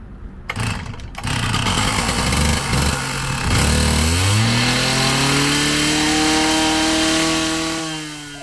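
A small petrol chainsaw engine sputters to life and then revs up loudly, its pitch climbing and holding steady before easing off, during firefighter equipment checks.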